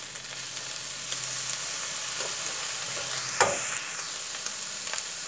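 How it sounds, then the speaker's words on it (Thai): Curry crab noodles stir-fry with oyster sauce, soy sauce and sugar in a hot pan, a soft, steady sizzle broken by a single scrape or clink of the spatula. "แล้วก็ผัดให้เข้ากันอีกครั้งนะครับ"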